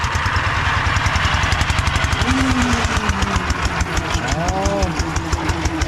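A truck hauling manure labours in first gear across a sandy cassava field, its engine pounding loudly in a heavy, fast, steady rhythm while someone talks over it.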